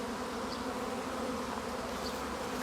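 A honeybee swarm circling around an apiary, heard as a dense, continuous buzzing of many bees close by, steady and unbroken, with no voices.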